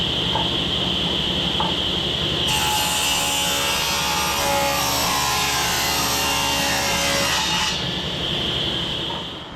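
A table saw rips wood into garden fence pickets: the motor whines steadily, then the blade bites in for a loud, sustained cutting roar of about five seconds before dropping back to the idle whine, close by with no talking.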